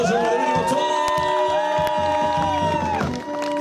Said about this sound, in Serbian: Dajte mi aplauz ovdje za mladoženje, da vidimo to!